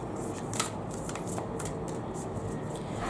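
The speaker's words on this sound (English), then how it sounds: "they're so hard to shuffle because the deck is so thick" A thick deck of tarot cards is shuffled by hand, giving quiet, close, irregular riffling clicks and soft rustles with no talking.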